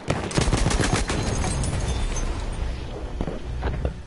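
Rapid gunfire and a grenade blast from an online PS4 shooter, with dense overlapping bursts and booms packed loud and close throughout, no voices over them.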